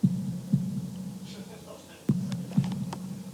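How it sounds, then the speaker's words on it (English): A heartbeat thumps in slow, regular double beats, low and muffled, with a faint hum in the background and no voices. "holding my breath in an attempt to hear my heartbeat."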